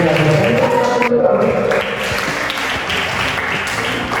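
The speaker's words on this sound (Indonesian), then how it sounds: "Boleh tepuk tangan untuk kalian." An indoor audience applauds a team from Jambi with dense, loud clapping that eases slightly partway through and continues steadily.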